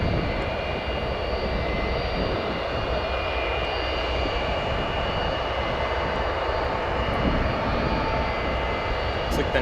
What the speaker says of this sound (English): 767 now clear to take off